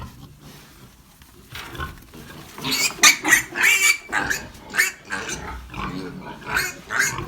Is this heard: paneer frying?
no